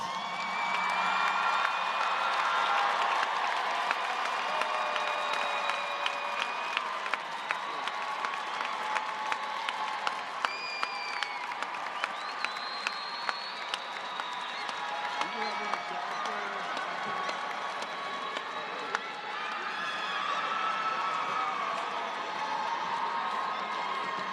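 Graduates at a university fall commencement ceremony applaud their families, a broad sustained crowd of clapping and cheering in a large hall, with scattered whoops and voices mixed in throughout.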